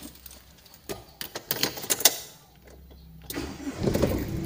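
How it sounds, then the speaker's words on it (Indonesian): A car engine is started during a beginner driving lesson: a few clicks and a whirring crank, then the motor catches and settles into a steady idle, close by with no talking. "Kita nyalain kali ya mobilnya ya."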